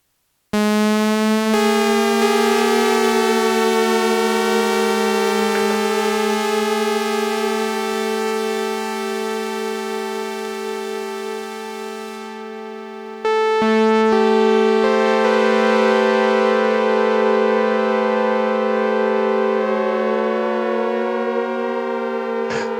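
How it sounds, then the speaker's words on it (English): Korg Prologue synthesizer playing a sustained chord whose pitch wobbles under LFO modulation, bright buzzy harmonics warbling steadily, loud and alone, then retriggering louder about halfway through. "So I've changed the LFO so it's modulating pitch."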